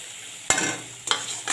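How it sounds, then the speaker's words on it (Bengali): Ginger, garlic and chili paste with chopped green chili and onion fries in a pan, a low steady sizzle broken by three sharp bursts of stirring, with no talk. "এবার আদা রসুনটাকে আমি ভেজে নেবো কাঁচা গন্ধ যাওয়া তখন।"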